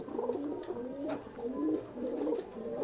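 Pigeons kept in a loft coo in repeated low, rolling phrases, several birds overlapping in a steady, close, moderately loud stream with no talk.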